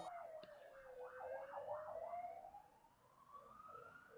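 A police car siren passes in the distance, wailing and yelping with the pitch sliding as it goes by, faint and steady over low background noise.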